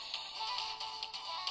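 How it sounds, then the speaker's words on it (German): A mobile phone ringtone plays inside the VR game Summer Lesson, a steady electronic melody repeating in short pulses, moderately loud with no talk over it. "ihr Handy läuft."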